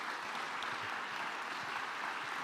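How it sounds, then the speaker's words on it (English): A sustained round of applause at a closing session, steady and even but faint and distant. "just keep that, please, that round of applause for Nate Meyer, too."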